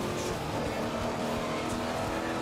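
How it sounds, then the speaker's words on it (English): Racing vehicle engine from the MotorStorm: Pacific Rift video game, a steady dense roar held for the whole stretch with hints of tyre noise, loud and up close with no talking. "You hear more the sound of the engine"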